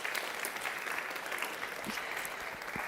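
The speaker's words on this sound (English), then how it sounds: "I would like to ask the audience a big applause for these really inspiring stories." Steady audience applause fills a conference hall at the European R&I Days 2024 event, a dense, even wash of many hands clapping at moderate volume throughout, with no break.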